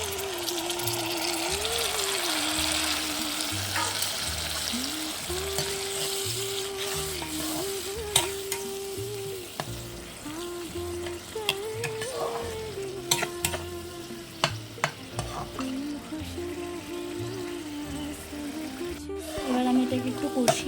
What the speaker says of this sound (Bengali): টমেটোটা প্রায় ভাজা ভাজা হয়ে গেছে এবার আমি সর্ষে বাটাটা দিয়ে দেবো